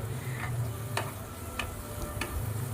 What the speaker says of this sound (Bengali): পেঁয়াজটাকে এখন একটু ভেজে নেবো তবে খুব বেশি ভাজবো না